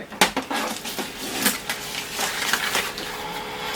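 Plastic clicks, rattles and scraping from the paper tray of an HP LaserTank M1005W printer as it is handled and closed, close-up and fairly loud, a run of sharp irregular knocks.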